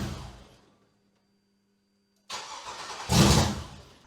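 A Ford F100 truck engine on a swapped chassis cranks and catches with a loud burst, then roars briefly into a rising rev after a stretch of quiet.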